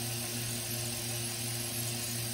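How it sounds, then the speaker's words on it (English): A goat milking machine runs steadily with a vacuum line hooked up for pulsation, giving a continuous mechanical hum with a faint regular throb, loud and close, with no talking. "And then the machine will start pulsating and it's ready to milk."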